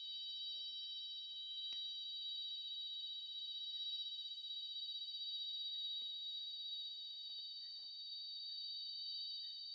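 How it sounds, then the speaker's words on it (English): A cicada buzzes in a steady, unbroken high drone throughout a live safari outing, fairly even in loudness, with faint scattered rustles beneath and no talking. "I can hear a cicada."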